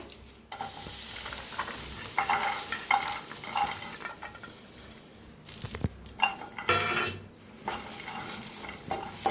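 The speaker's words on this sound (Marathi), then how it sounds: "आता लसूण आणि मिरची बी भाजून घेऊया" Garlic and green chillies roast in a pan for a Maharashtrian khar wanga masala, giving a soft sizzle under repeated scraping and clinking of a metal spoon stirring against the pan.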